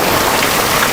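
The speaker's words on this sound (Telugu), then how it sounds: "వడగండ్ల బాణ పడుతుంది" Heavy hail and rain pouring down outdoors during a windy storm in Hyderabad, a dense, steady roar of hard impacts that fills the whole short moment at close range, with no voices.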